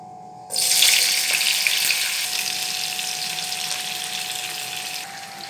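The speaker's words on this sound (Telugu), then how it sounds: "ఇవి మనం గోల్డెన్ కలర్ వచ్చినంత వరకు ఫ్రై చేయాలండి" Pasta pieces fry in hot oil on a low flame, giving a steady, dense sizzling hiss that starts abruptly and continues close and loud throughout.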